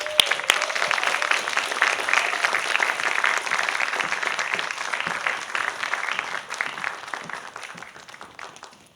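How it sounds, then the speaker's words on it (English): An audience applauds steadily to welcome panelists at a leadership panel event, a dense, continuous wash of clapping that holds strong for most of the span before tapering off near the end. "Let's welcome our panelists with the biggest applause yet, please."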